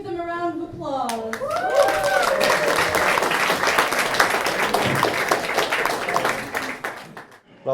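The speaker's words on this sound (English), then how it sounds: "Please give them a round of applause." Wedding guests applaud the best men at a reception, a full room of steady clapping that swells in and holds loud for several seconds, with a brief voice at the start before the clapping takes over.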